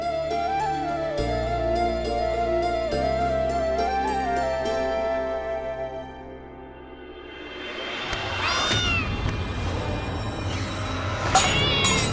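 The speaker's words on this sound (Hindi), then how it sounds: "हे भगवान, ये बिल्ली कहाँ से आ गई?" A black cat meows several times near the end, loud and close, after a stretch of steady tonal background music. No one speaks.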